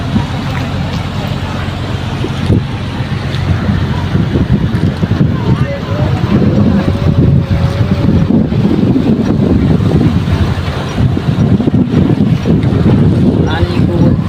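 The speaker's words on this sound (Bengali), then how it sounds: "পানি খুব উথাল পাতাল করছে।" Rough, choppy water slaps against a boat on a river crossing to a market, with strong wind buffeting the microphone and a motor drone underneath, loud and continuous throughout.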